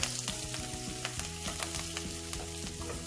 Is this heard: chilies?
yes